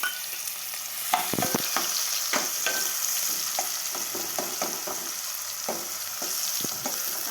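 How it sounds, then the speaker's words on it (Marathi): Finely chopped onion frying in hot oil for a coconut chicken curry, a steady broadband sizzle with scraping spoon strokes at irregular intervals throughout, close and fairly loud, no talking. "कांदा परतून घ्यायचा ब्राऊन होईपर्यंत"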